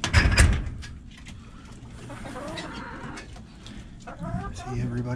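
Pigeons and chickens in a backyard coop, with clucks and cooing calls over faint rustling, near and moderate in level, under a person talking.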